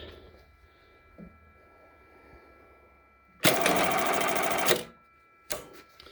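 A Jack button sewing machine stitches a button in one loud, dense mechanical burst of about a second and a half, set against a quiet background with a soft hum, followed by a brief second clatter.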